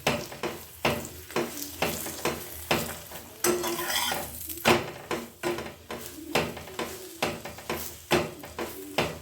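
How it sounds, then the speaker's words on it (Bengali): Potato parathas frying in refined oil in a pan, a close, loud sizzle rising and falling in regular bursts as each one is pressed and turned, with no talking. "এবারে রিফাইন অয়েল দিয়ে দিলাম, দিয়ে ভালো করে ভেজে নেব।"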